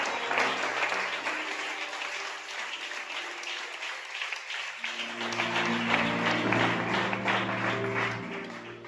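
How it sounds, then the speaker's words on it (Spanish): A church congregation applauds during a communion service, a sustained dense clapping that continues throughout while organ or keyboard chords rise underneath partway through. "Confirmamos esta oración con un fuerte aplauso para el Señor."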